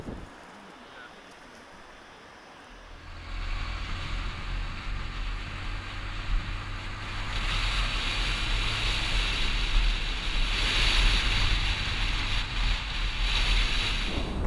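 Wind at a high roadside vantage point on a motorbike trip through Vietnam, starting quiet and then rising into a loud, steady rushing roar that keeps building in gusts.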